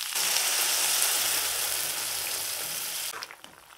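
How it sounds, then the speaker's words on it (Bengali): Water poured into a pan of lightly fried bitter gourd and potato for a curry, giving a loud, steady hissing sizzle that fades slightly and then breaks into brief bubbling pops at the end. "এবার ঝোলের জন্য জল দিয়ে দেব।"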